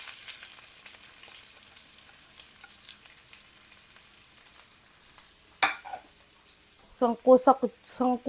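Onions sautéing in a pan for a mung bean stew make a low, quiet sizzle that runs on, then a sharp clatter and several loud bursts of frying and stirring near the end.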